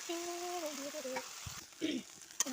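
Vegetables cooking in a pan with turmeric, salt and a little oil, a low sizzle with scraping stirs, and a faint tonal whistle early on.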